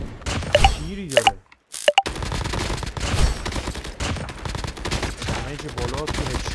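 A KN44 rifle fires in a video game: loud, close volleys of shots, a brief silent pause, then more sustained firing, with someone talking underneath.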